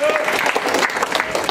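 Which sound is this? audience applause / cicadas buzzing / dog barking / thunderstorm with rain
audience applause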